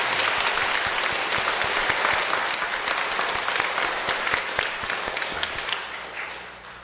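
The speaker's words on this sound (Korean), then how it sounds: "오늘 다시 한번 우리 차량 봉사회원들을 위해서 격려의 박수 한번 부탁드립니다." An audience at a church gathering bursts into sustained applause, dense clapping from many hands close by that holds steady for several seconds before tapering slightly.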